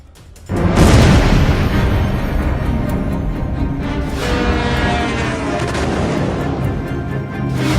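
A loud, sustained roar of an Iranian missile launch in a dark night sky, rising sharply and then rumbling continuously at a steady, powerful level with no talk.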